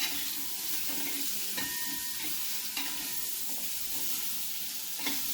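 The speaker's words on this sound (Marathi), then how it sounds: "तर अशा प्रकारे कैरीला थोडा रंग येईल थोडीशी मी परतून घेते ती म्हणजे तेलातली चांगली हे होईल" Raw mango pieces sauté and sizzle in hot oil with steady, dense frying noise throughout, a few faint stirring clinks rising above the constant crackle.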